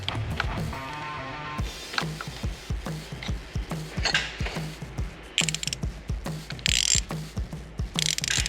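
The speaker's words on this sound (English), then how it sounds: "So now we need to reinstall our bolt." Ratchet wrench reinstalling a bolt on a Ford 7.3 Powerstroke diesel engine during an injector replacement, with rapid repeated clicking strokes in bursts, close and fairly loud, no talking.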